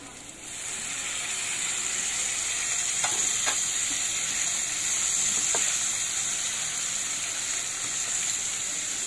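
String beans (sitaw) hitting a hot seasoned pan for ginataang kalabasa with shrimp, a steady bright sizzle and frying hiss throughout, with a few faint clicks of stirring.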